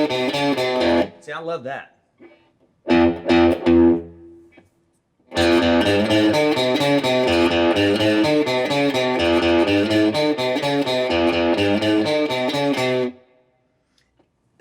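An electric guitar played through an overdriven amp, a few brief chords followed by a longer sustained, gritty strummed passage, with someone speaking briefly between the playing.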